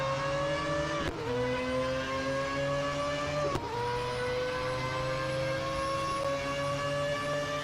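Mazda 787B race car engine in the Real Racing 3 video game, a loud sustained high-revving drone with steady harmonics and two abrupt gear-shift dips, running continuously with no voices.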